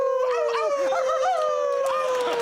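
A man imitates a wolf howl with his voice, a long, sustained wavering tone that slides and bends over a couple of seconds, close and clear.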